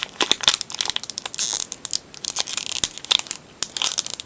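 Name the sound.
tearing open a Pokémon card booster pack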